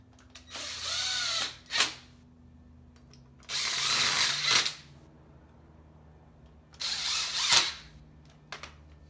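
A power drill drives a screw into a furniture panel during assembly, three loud whirring bursts of about a second each, separated by pauses with small clicks, close up and with no talking.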